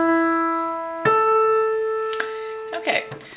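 Keyboard sounds a fourth interval, two clear sustained notes played one after the other, the higher note entering about a second in, followed by faint softer sounds at the end.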